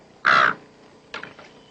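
A crow gives one loud, harsh caw near the start, then a second, fainter and more broken caw about a second later.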